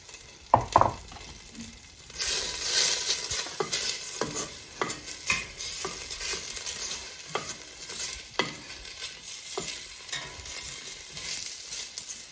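Three small garlic cloves sizzle in a hot pan while being stirred, with a steady crackling hiss broken by repeated scraping strokes and a louder knock at the start.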